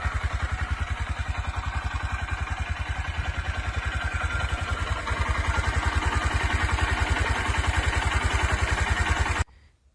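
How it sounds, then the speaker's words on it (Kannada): A Honda Shine 125 BS6 motorcycle idles close by, a steady, rapid, even putter that swells slightly midway and then cuts off abruptly just before the end, with no talking. "ಇನ್ನು ಈ ಗಾಡಿ ಇಂಜಿನ್ ಸೌಂಡ್ನ ನೀವೇ ಕೇಳಿಸ್ಕೊಳ್ಳಿ."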